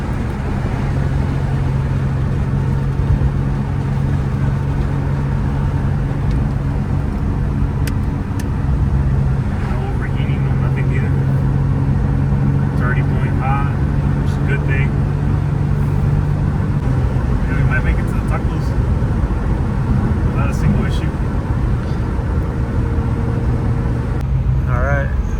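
An Infiniti G35 after an engine swap cruises along the road, a loud steady engine drone with tire and road noise; someone talks over it now and then.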